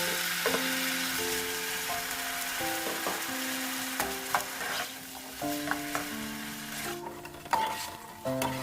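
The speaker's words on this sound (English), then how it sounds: "I'll deep fry the potatoes until they're cooked and golden brown." Potatoes deep-fry in hot oil for a mung bean stew, giving a steady bubbling sizzle throughout with scattered clicks and scrapes of stirring.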